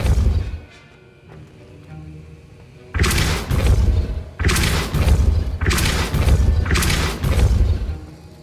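Depulso force spell cast in the Hogwarts Legacy video game, a run of heavy booming blasts in quick bursts, loud and close, following a quieter stretch of game ambience, with no talking.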